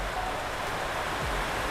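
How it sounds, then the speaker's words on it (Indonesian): Heavy rain pours down steadily outside a second-floor room, a dense, even broadband hiss with no voices over it. "Terus ini hujan gede banget nih."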